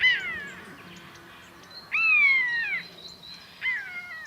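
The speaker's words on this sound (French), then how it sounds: "Perruche Alexandre." An Alexandrine parakeet gives three loud, harsh, descending squawks spaced a second or two apart, close and clear against a quiet background.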